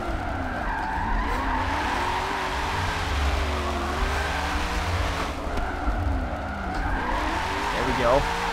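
Tire squeal from a car drifting into a high-speed corner in a racing video game, long wavering screeches over a sustained engine drone, loud and continuous for several seconds.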